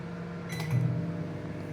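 An oven running while it preheats for a basic chocolate sponge cake: a steady low mechanical hum with a brief louder whir in the middle, with no talking.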